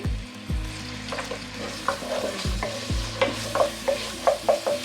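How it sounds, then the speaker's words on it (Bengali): About a cup of onions sizzles in hot oil in a pan while a spatula stirs them, giving repeated scraping strokes over a constant frying crackle. The sound is close and clear, with no talking. "এক কাপ পরিমাণ পেঁয়াজ এটাকে খুব সুন্দর করে নেড়ে ভেজে নেব"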